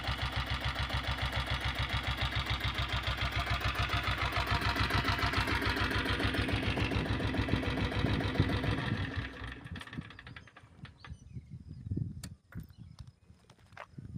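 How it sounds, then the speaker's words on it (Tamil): A kick-started diesel Bullet motorcycle engine runs with a loud, steady low thumping rhythm close by, then drops to a quieter idle with scattered clicks and knocks. "ஈஸியாகவே நீங்கள் கிக் ஸ்டார்ட் பண்ணலாம்."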